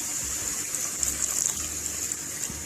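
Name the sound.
milk being poured into a pan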